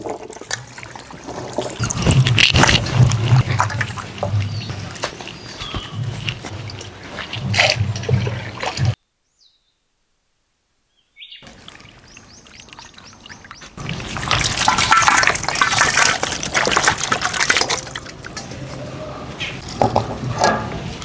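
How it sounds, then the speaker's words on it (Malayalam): Water splashes and trickles over cut chicken pieces as they are washed, loud pouring in bursts broken by a short silent gap, then a heavier rush of water near the end. "കഷ്ണം മുറിച്ചിട്ട് ഒന്നുകൂടി നമുക്ക് കഴുകിയെടുക്കാം ഒഴിക്കി വെള്ളം"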